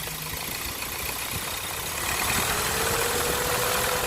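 Ford Ranger pickup engine idling, then revving louder as a rising turbo whine climbs steadily over the rumble.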